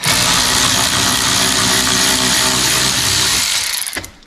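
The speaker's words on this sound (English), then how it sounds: "pop 3 bolts out." A power driver with a T25 Torx bit backs bolts out of a Land Rover Discovery car mirror mount, a loud continuous whir up close that cuts off near the end.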